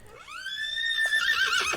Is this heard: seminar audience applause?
no